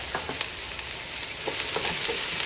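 Chopped small onions frying with mustard seeds in a pan for a Kerala-style chicken curry give a steady close sizzle with scattered pops and crackles throughout, with no talking.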